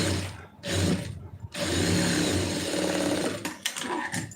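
A sewing machine runs in short bursts over fabric, a brief start, a pause, then a longer steady stitching run with faint clicks at the end, close by and with no talking.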